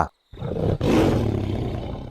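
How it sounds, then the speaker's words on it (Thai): A tiger roar, used as a sound effect in a Thai forest legend story, bursts in after a brief silence and holds as a loud, close, rumbling roar that slowly fades. "จู่ๆมีเสียงคำรามของเจ้าป่า ดังขึ้นมาสนั่นอย่างน่าหวาดกลัว"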